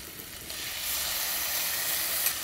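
Tomatoes and green chillies fry in a pan with onions for palak dal, giving a steady, close hiss and sizzle that swells slightly after the first second and carries on evenly, with no voice over it.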